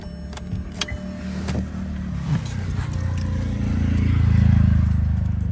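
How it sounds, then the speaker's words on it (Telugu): A 2020 Hyundai Creta 1.4 E Plus starting up and running, with a few clicks early on, then a low engine rumble that swells and holds close by, with no talking. "కారు కూడా స్టార్ట్ చేసాను చూసుకోవచ్చు ఎటువంటి కంప్లైంట్ అయితే లేదు"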